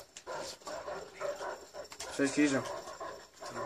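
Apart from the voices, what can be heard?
dogs barking in a video game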